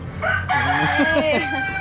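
A rooster crows loudly and close by, one long drawn-out call rising and falling, with steady background noise underneath.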